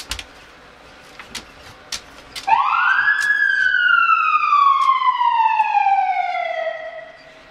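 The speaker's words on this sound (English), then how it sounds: "Okay, Izzy, get the siren." A loud siren wail rises sharply, then slowly glides downward in pitch, sustained for several seconds after a few faint clicks.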